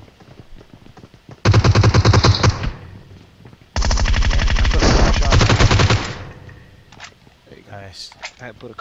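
Automatic gunfire in the mobile battle royale game PUBG Mobile comes as two loud, rapid bursts, the first about a second long and the second over two seconds, with voices talking between them.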